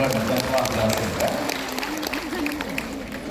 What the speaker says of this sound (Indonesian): Tepuk tangan sekali lagi buat Renner yang telah berhasil ya